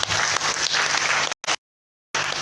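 Audience applause at a student conference, a dense, steady wash of clapping that cuts out abruptly, returns briefly, goes silent, then resumes.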